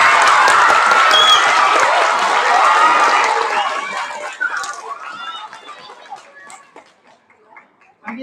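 A school audience applauds students advancing in a speech competition, loud clapping and excited young voices that build briefly and then fade away, leaving scattered claps and chatter.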